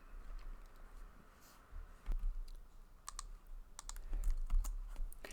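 Code is typed on a computer keyboard: close, crisp clicks and keystroke bursts in irregular clusters over a quiet room hum.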